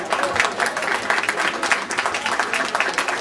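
An audience at a book award ceremony breaks into brief, lively applause, a dense patter of many hands clapping at an even level.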